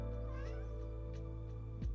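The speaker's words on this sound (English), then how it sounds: "If you can hear a cat" A domestic cat meows softly a few times indoors, faint against a steady background hum, with one rising call near the end.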